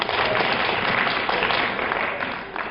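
Steady applause from a crowd at a New Year's ball, loud and continuous, tapering slightly toward the end.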